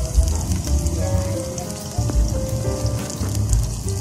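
Garlic sizzling in a hot pan as it goes in while cooking native chicken adobo, a steady crackling fry with dense popping throughout, close and fairly loud, no talking.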